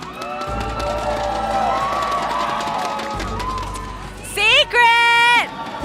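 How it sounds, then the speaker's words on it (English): A stadium crowd cheers at a Mobile Legends MPL Malaysia esports match, a sustained roar of voices under an announcer's amplified speech, with sharper shouts and whistles rising near the end. "The crowd is ready."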